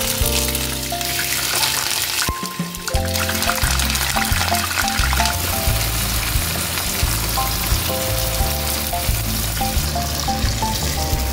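Cauliflower frying in hot oil gives a steady, close sizzle throughout, though music with clear tonal notes plays loudly over it.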